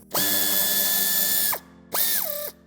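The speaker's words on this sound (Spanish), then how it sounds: "para terminar de desmontar el paragolpes tendremos que quitar el tornillo que tenemos detrás del plástico" A power driver removes a screw hidden behind the plastic of a 2021 Peugeot 308 SW bumper, with two close, loud whirring bursts, a long one and then a short one.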